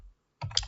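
A quick cluster of computer keyboard key presses, close and soft, after a brief silence.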